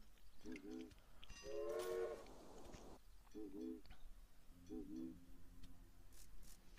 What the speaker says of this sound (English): As you can see there, freight train.